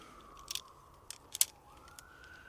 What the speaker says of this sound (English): I guess I hear a siren.